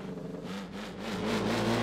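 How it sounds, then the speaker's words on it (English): A race car engine in a video game held at high revs, buzzing and bouncing against the rev limiter in a rapid, rising-and-falling whine. "Operate the rev limiter. Listen to that,"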